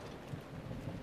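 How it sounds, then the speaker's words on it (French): Steady rain in the video game Zelda Breath of the Wild, a soft continuous wash of falling water with a low rumbling undertone, fairly faint and without speech. "le souci, c'est qu'il pleut"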